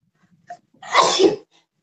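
A single close, sharp sneeze after a brief intake of breath.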